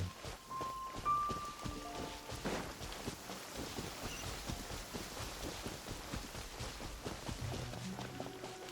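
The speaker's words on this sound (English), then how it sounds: "Oh, it's rain." Rain falling in the video game Genshin Impact, a soft continuous patter of drops heard faintly under in-game music tones, with no talking.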